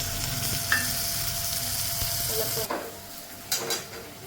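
Tomatoes and roasted peanuts sizzling in a tempering pan of hot oil, a loud steady frying hiss up close that drops away, then a couple of brief stirring bursts.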